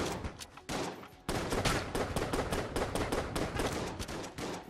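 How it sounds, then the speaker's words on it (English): Rapid gunfire from a weapon in the video game Enter the Gungeon, a dense stream of closely spaced shots after a brief pause, loud and steady throughout. "it does have a much higher firing rate than any of the other guns we have."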